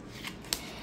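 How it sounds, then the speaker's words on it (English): Tarot cards are riffle shuffled in a very brief, close burst, a soft rapid flutter ending in one sharp snap. "So, no issues with the riffle shuffling."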